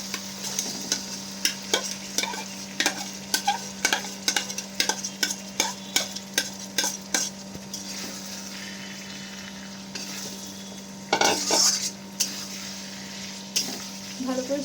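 Marinated chicken frying in a pan with onion and ginger-garlic paste, stirred by a spoon that scrapes and taps in a quick, steady rhythm over a constant low hum and soft sizzle.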